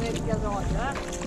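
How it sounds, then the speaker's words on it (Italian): A motor boat passes on the Adda river, heard from an inflatable kayak, its engine drone steady and fairly close, with wind rushing against the microphone. "Vabbè, è passata la barca,"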